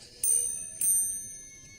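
A small hand bell rings twice in quick succession, each strike bright and close with a ringing decay, used as a yes/no signal in a quiet room.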